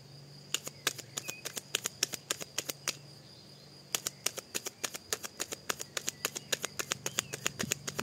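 Cards being shuffled and drawn during a French card reading, heard as rapid crisp snapping clicks in two quick bursts, close and fairly loud, over a faint steady hum with no talking.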